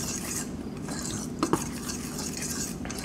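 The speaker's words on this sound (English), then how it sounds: "What we're going to do is mix that really well so you can distribute the baking powder throughout your mix." A dry flour mix with baking powder and salt is stirred steadily in a bowl, a continuous close scraping rustle with a couple of brief clinks midway, no voices.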